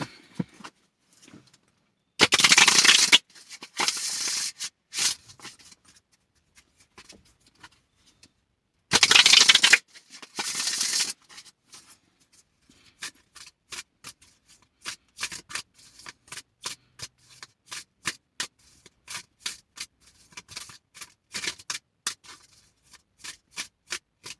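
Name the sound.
shuffling a Witch's Oracle card deck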